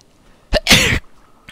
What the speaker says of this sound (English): did my sneeze scare you